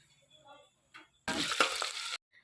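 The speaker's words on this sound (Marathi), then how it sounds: "अगोदर ना असं तेलामध्ये छान असं कांदा परतून घ्यायचा" Onion sizzling as it drops into hot oil in a home kitchen, a loud burst of frying lasting about a second before cutting off, with faint clatter before and after.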